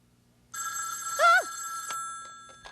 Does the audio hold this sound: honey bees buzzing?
no